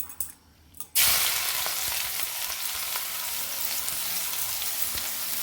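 Onions tossed into hot oil already holding mustard and cumin seeds burst into a loud, steady sizzle after a brief quiet moment, then keep crackling evenly close by.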